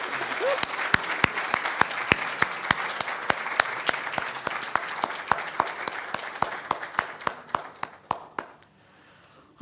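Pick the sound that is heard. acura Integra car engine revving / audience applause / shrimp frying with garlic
audience applause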